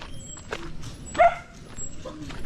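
A dog lets out one short, sharp yelp or bark midway through, standing out briefly over a low, murky background with faint voices.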